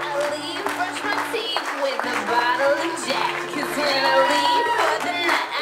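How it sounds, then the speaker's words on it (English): Wedding guests at a country club reception clap together in a lively crowd, steady applause mixed with cheering, shouts and talk over background music. "we need all guests clapping their hands above their head right now at this time"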